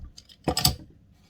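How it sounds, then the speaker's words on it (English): A bottle of Enville Blizzard 6.5% winter ale is cracked open with one brief, quiet snap and a short hiss, close by with no talking. "Let me crack this open."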